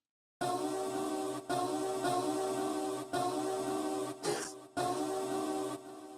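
A short sampled vocal phrase, chopped in Slicex, repeats in choppy, evenly cut segments, each chunk starting abruptly, with a brief glitchy burst near the end.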